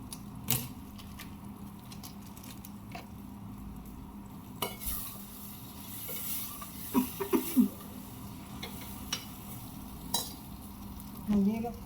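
Cluster beans and potato curry sizzle softly in a pan while a spoon stirs and scrapes through it, with scattered knocks of metal against the pan. The sound is quiet and close, with no talk.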